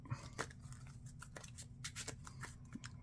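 Marvel Champions playing cards being shuffled by hand at close range, a run of crisp snapping and rustling bursts with no talking.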